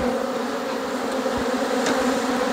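Agitated honeybees from a kitchen hive being inspected make a dense, steady buzzing drone close by, with a couple of faint brief knocks in the middle and no talk.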